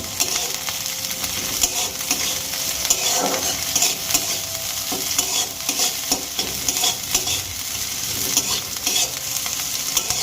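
Two small onions, cut into large pieces, fry in a pan with a steady, close sizzle, while a utensil stirs and scrapes them now and then. The sound is continuous and fairly loud, with no voices.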